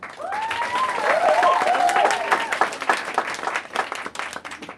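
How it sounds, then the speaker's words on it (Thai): An audience at a network business talk claps for a guest, a swell of applause rising and then thinning into scattered claps, with a musical tone sweeping through early on. "ขอเสียงปรบมือให้คุณออฟกันคุกครับ"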